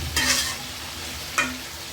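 Fried potatoes being stirred and sautéed with prawns and cucumber in a pan, two distinct scraping stirs over a low continuous sizzle, close by with no voices.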